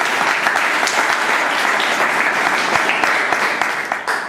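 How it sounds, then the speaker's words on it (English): An audience at a Toastmasters meeting gives a big round of applause, dense steady clapping that stays loud throughout and begins to thin out in the final moment. "Big round of applause."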